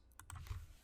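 Quick keystrokes on a computer keyboard enter a number into a spreadsheet, a brief burst of several light clicks, quiet and close.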